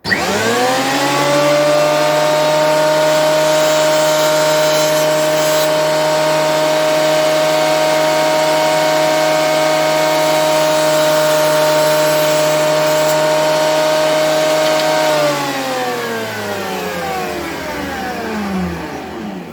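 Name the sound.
thickness planer planing maple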